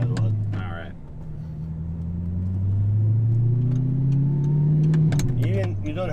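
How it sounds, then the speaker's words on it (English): An Audi R8 engine revs up and falls back in steady rising and falling tones, heard from inside the car with people talking over it. "for this engine, it's good to let it rev"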